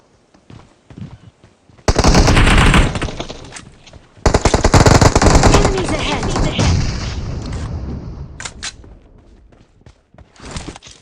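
Automatic gunfire in PUBG Mobile, two long loud close bursts of rapid shots with a brief pause between, then tapering off, with footsteps and a voice speaking briefly around it.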